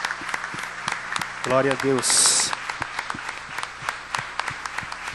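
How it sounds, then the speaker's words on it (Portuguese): Congregation applauding during an evangelical church service, a burst of clapping lasting a few seconds under and between a preacher's spoken praise, with a short synthetic high tone near the middle. "Você pode dar uma salva de palmas a Jesus?"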